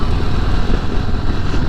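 Harley-Davidson Low Rider ST motorcycle engine running steadily while riding, a loud, continuous low rumble with dense rough texture filling the whole stretch and no pauses.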